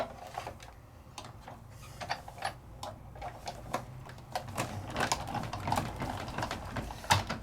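A craft embossing machine presses cardstock through its rollers, giving off a run of clicking, ticking mechanical taps that grow busier and louder toward the end, heard up close with no talk.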